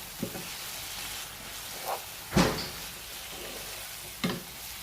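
A spoon stirs masala with mint and coriander leaves in a pot, giving a few scattered scrapes and soft clacks over a faint low sizzle, with no talking.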